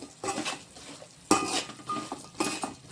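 Chicken pieces tipped into a spiced marinade for a crispy, spicy chicken pickle, giving a few wet clattering drops and scrapes against the bowl, with a sharp burst around the middle and another near the end.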